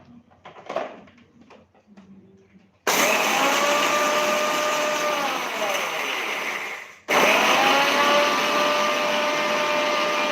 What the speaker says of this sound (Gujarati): હવે આપણે આને પીસી લેશું દરદરું.